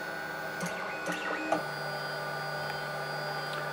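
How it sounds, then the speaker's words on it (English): A LulzBot TAZ5 3D printer homing its axes: faint, whining stepper-motor tones with a few short mechanical shifts in the first second and a half, then a steady hum over quiet background. "actually calls the printer to start homing"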